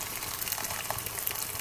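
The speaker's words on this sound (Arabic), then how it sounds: "نلوحو الماء حتى يتغطى اللحم" Water poured into a pot over meat for freekeh soup makes a steady close splashing and gushing that runs unbroken throughout.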